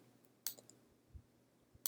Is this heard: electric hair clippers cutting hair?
no